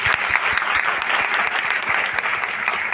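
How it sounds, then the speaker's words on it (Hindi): A crowd at a leadership speech event in Ranchi breaks into loud, energetic applause, with dense, vigorous clapping filling the hall steadily for several seconds. "एक बार जोरदार तालियां।"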